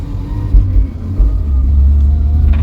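A barn-find Vauxhall Viva car on a test drive, its engine rumbling loud and close with uneven revving surges as it pulls away, a steady low drone throughout.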